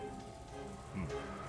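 Steady wind and rain from outside a house in the Umineko visual novel, a continuous mid-level wash of rainfall on surfaces with a faint swell of gusting near the end, no voices.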